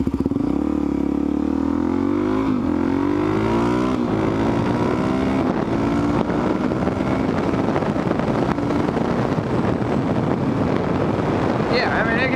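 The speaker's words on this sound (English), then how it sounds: "I'm going to take a left here and show you the rideability and funness factor of a DRZ Supermoto." A DRZ supermoto motorcycle engine drones steadily through a left turn, its pitch climbing and shifting with the throttle, loud and close with constant wind buffeting the microphone.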